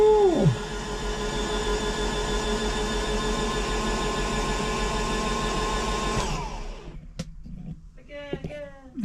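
A Vauxhall Vectra C20XE engine is cranked over on its starter: a steady, loud whirring drone runs for about six seconds, then cuts off, and brief voices follow.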